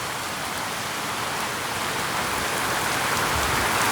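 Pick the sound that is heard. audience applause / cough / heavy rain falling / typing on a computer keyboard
heavy rain falling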